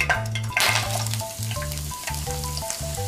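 Lotus root and carrot stir-fry in hot sesame oil in a frying pan, a loud, bright sizzle with scraping stirs that swell and ease in short bursts.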